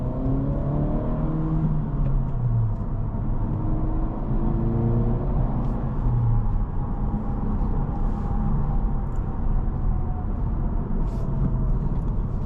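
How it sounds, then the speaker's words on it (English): A 2026 Acura Integra A-Spec Tech with a 6-speed manual drives along, its engine a steady, loud drone that rises and falls through the revs and gear changes, heard from inside over constant road and tire noise. "the rev hang is like really high in the shift between second and third gear"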